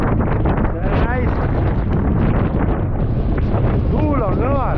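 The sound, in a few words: strong wind on a boat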